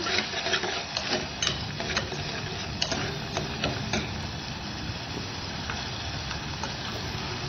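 Onion, chili and coriander sauté in a pan, giving a steady frying hiss broken by a string of sharp spoon taps and scrapes early on, close and moderately loud, with no talk.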